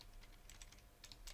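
Faint, quick typing on a computer keyboard, a soft irregular patter of keystrokes with no speech.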